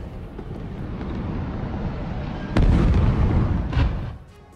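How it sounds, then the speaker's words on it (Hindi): Explosions in Beirut, Lebanon, captured in news footage: a sudden heavy boom hits over a continuous low rumbling roar, followed by another thud, with the deep rumble fading at the end. "लेबनान के बेरूत में जबरदस्त धमाके हो रहे हैं"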